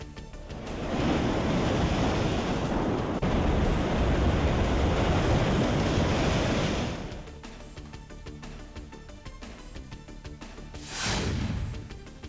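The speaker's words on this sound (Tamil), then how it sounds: "அவ்வப்போது கனமழையும் கொட்டி தீர்த்த நிலையில் பலத்த காற்றுடன் கடல் சீற்றம்." Rough sea in strong wind: a loud, roaring rush of surf and wind for several seconds, easing to a lower churn before another wave surges and crashes.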